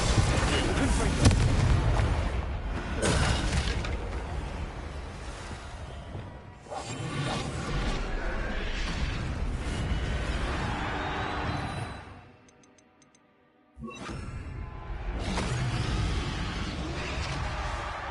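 Confringo fire-blast spell explosions in the Hogwarts Legacy video game, a dense run of booming blasts and whooshes with battle noise that drops to near silence briefly before resuming, loud and close.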